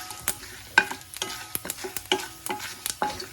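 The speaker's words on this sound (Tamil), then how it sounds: "ஆயில் நல்லா ஹீட் ஆனதுக்கப்புறமா அதில் நம்ம தாளிக்கிறதுக்காக கொஞ்சம் கடுகு, உளுத்தம் பருப்பு, கடலைப்பருப்பு, ஒரு 3 வரமிளகா இதெல்லாமே தாளிக்கிறதுக்காக போட்டுட்டேன்" Mustard seeds, urad dal, chana dal and three dried red chillies tempering in hot oil, a close sizzle broken by repeated sharp scrapes and clacks of a stirring spoon against the pan, with no talk.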